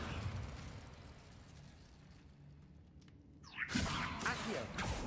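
A Levioso levitation spell is cast in the game Hogwarts Legacy. A quiet ambient stretch ends in a rising whoosh and a bright burst of magical effect that rings on to the end.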